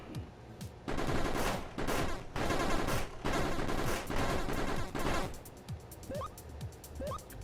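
Rapid bursts of 9mm gunfire in the survival video game Hero Survival, loud repeated volleys of shots in quick succession with short pauses between them, followed by lighter pops and chirps at the end.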